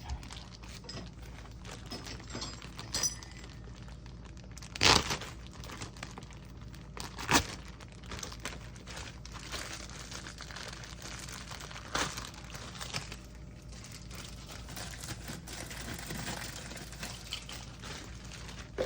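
Fresh celery sticks snap in half by hand while jars of small carrots and celery are being packed. Two crisp, close snaps stand out over quiet, faint rustling.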